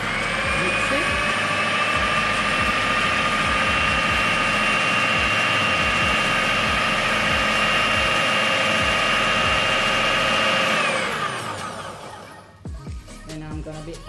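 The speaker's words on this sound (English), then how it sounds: "now I'm gonna put on the power and then we're doing the dough" A food processor mixes pie dough for flaky-crust Jamaican mango hand pies, its motor whirring loud and steady for about eleven seconds before switching off and winding down.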